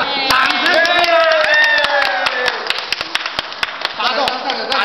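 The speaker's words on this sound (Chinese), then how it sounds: "给他掌声吧" A small group gathered around a newly unboxed Harley-Davidson Iron 883 claps in scattered, sharp bursts while several voices chant and talk loudly over them nearby.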